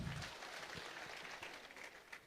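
Audience clapping at a public gathering in Kenya, a steady wash of applause of moderate loudness throughout, with a brief low voice or thump near the start.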